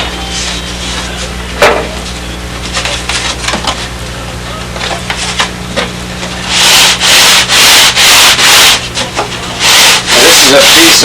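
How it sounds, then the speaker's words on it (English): Plywood is sanded by hand on a strip of belt-sander belt glued to a flat glass table, giving loud, rhythmic rasping strokes in steady back-and-forth bursts, mostly in the second half, with no talking. "This is a piece of sanding belt from a belt sander you can buy in Sears Roebuck."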